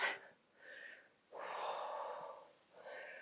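Slow, deep breaths drawn in and pushed out while holding a low back stretch, about three airy breaths in close succession, soft and near with no talking.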